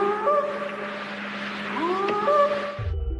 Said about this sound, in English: checks for a Bigfoot match using the popular Sierra sounds